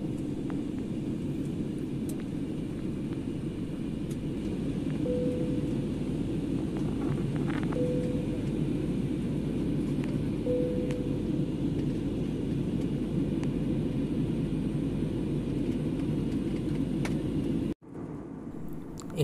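Steady, loud airplane cabin drone during flight above the clouds, a constant broadband roar with a few faint electronic chimes, cut off abruptly near the end.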